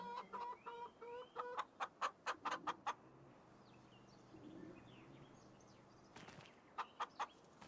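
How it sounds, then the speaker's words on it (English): Chickens in the Farming Simulator 25 farm game cluck in quick repeated bursts, a run of sharp calls early on and another near the end, standing out over a quiet low background hum. "By the chickens, so they're a bit noisy."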